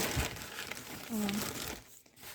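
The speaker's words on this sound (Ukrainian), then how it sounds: "я зараз в пакет і в підвал пущу" A plastic bag crinkles while freshly dug horseradish is packed into it for cellar storage, with close rustles and crackles throughout and a brief tonal sound in the middle.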